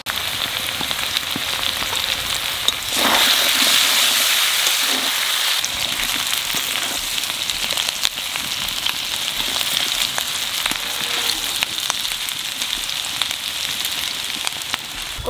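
Taro pieces frying in oil in a pan with green chilies, a steady dense crackling sizzle that stays loud and even throughout, with a brief burst of stronger spitting early on.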